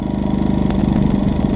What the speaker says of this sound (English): there goes the fan